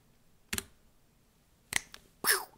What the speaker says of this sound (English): typing in my I'm not a robot code